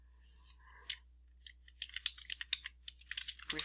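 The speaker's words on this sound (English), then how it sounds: "you type in your subject" Computer keyboard typing in a quiet room, a quick irregular run of crisp light keystrokes that speeds into a dense burst toward the end, close and alone.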